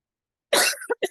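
A single person's harsh cough, close and sudden after silence, followed by two short throat-clearing bursts.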